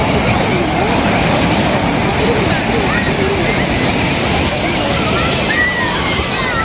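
Sea waves at Marina Beach in Chennai, India, a beach with a strong undercurrent: a steady, loud wash of surf rolling continuously without break, with no clear individual wave crashes standing out.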